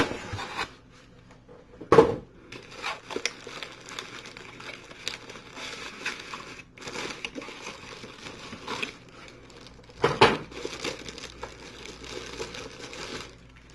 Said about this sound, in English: It's a lot of packaging.